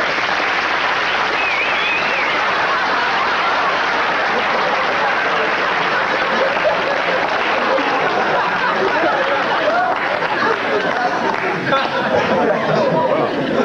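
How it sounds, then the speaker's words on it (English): A studio audience at a 1977 late-night talk show breaks into sustained, even applause that carries on for over ten seconds, with chatter and a few chuckles mixed into the clapping. "let's bring him on with a nice round, warm round of applause"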